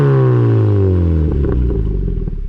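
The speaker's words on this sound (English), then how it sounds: "we need to fix this exhaust because it's pretty damn loud" Loud exhaust note from a Mazda MX5 with a faulty exhaust, a steady low engine drone falling in pitch as revs drop, then settling into a rough, rumbling idle with clattery pulses, close and constant.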